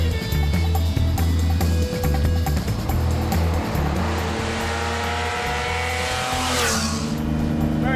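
A Lamborghini sports car driving, its engine droning loud and steady at close range, with a rising whine and some tire noise near the end.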